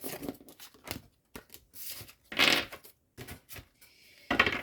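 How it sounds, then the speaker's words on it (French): A deck of cards is shuffled for a clairvoyance card draw. Quiet, irregular bursts of papery riffling and rustling come with short pauses between them, and no voices are heard. "On va faire un autre tirage."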